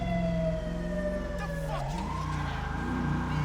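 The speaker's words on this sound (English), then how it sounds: "Now that siren, by the way, isn't mine." A wailing emergency vehicle siren in Grand Theft Auto V with a police mod, rising and falling tones over engine rumble, with a brief tire skid in the middle.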